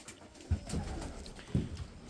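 Pigeons in a breeding loft give low, soft coos, two or three quiet throaty calls close by in a calm room. No one talks.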